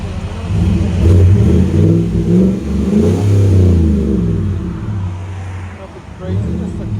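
A 2016 GMC Sierra Denali with a 6.2L V8 and Borla Pro-XS muffler revs with a deep, steady rumble that swells and eases across the stretch, heard at moderate distance with roadway noise behind.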